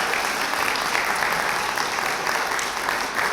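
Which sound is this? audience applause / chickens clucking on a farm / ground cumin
audience applause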